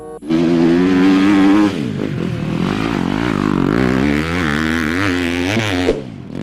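Buzzing, revving engine sound of a toy motocross motorcycle, loud and close, with a strong pitch that dips and rises as it revs, then stops suddenly.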